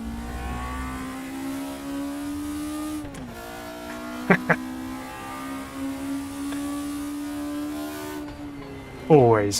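A race car engine in the RaceRoom Racing Experience video game drones loud and raspy, holding a steady pitch with a gear-change dip, two sharp clicks midway and a rising rev near the end.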